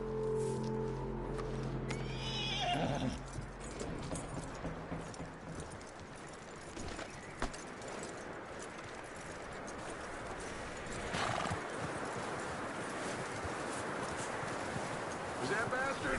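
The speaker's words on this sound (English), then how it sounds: "That looks like a decent horse." In Red Dead Redemption 2, a horse whinnies, then hooves clip-clop steadily at a walking pace over several seconds, with a voice briefly speaking.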